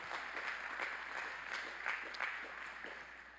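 Crowd at a university spring commencement applauds international students, a steady, fairly distant patter of many hands clapping that holds for a few seconds and then begins to thin.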